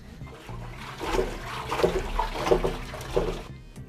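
Water sloshing and gurgling inside a metal gas tank as rust is rinsed out, a steady wet churning with a few louder splashy surges, close and continuous with no talking.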